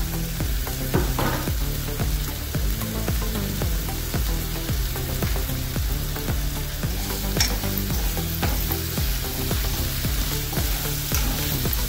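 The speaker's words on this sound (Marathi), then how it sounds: "तर मसाला चांगला भाजून घ्यायचा" Masala spice mix roasting in a hot pan with salt, a steady loud sizzle broken by regular scraping strokes of a spoon stirring, close and continuous with no talk.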